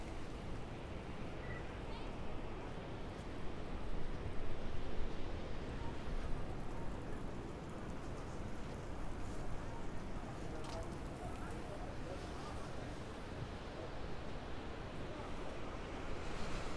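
Ocean surf rolls onto the beach at El Medano, Tenerife, a dense steady wash of breaking waves mixed with wind buffeting the microphone, with a voice talking faintly over it.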